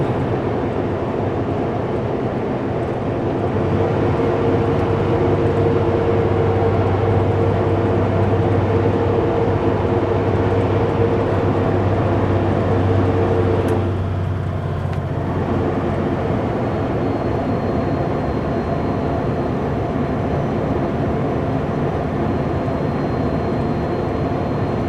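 A heavily loaded Super B semi truck engine drones low and steady on Canadian mountain switchbacks, its tone shifting briefly mid-way as gears change, then settling back into a continuous rumble with no talk.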